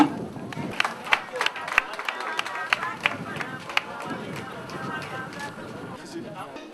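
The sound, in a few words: crowd applauding at a housing dedication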